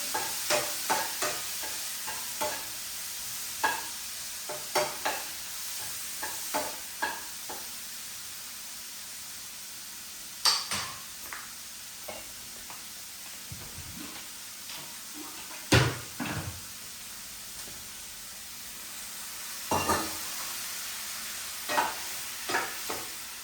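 Steady sizzling of bitter gourd frying in a pan, with repeated scraping and clinking of a spoon stirring, no talking.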